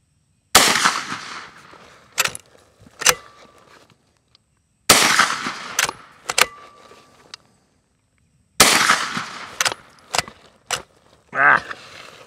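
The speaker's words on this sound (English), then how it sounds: "we're gonna shoot some groups with those and see how they handle the distance of 100 yards" A POF Tombstone lever-action pistol-caliber carbine fires 124 grain AAC ammunition at a 100-yard range: three sharp, loud shots spaced a few seconds apart, each followed by quick clacks of the lever cycling.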